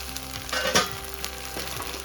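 Oysters frying in a covered pan over low gas. A soft, even sizzle holds through the clip, with a few louder pops rising out of it.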